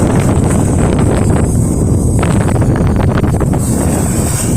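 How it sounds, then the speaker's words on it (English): Strong cold wind buffets the microphone in a loud, continuous roar with gusty fluctuations outdoors beside a house, no speech. "Lots and lots of wind."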